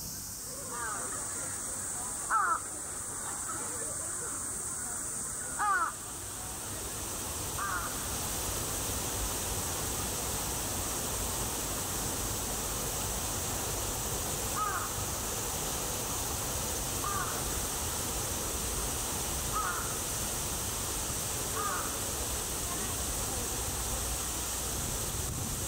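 Crows in Japan caw faintly in the distance, several separate calls spread across the clip, nearly buried under a steady outdoor hiss.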